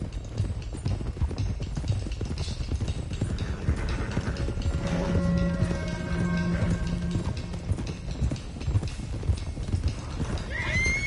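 Horses' hooves clip-clop steadily in Red Dead Redemption 2 as a group of horses is driven toward Clemens Cove, with a whinny or two breaking through the continuous trotting rhythm, fairly close and prominent.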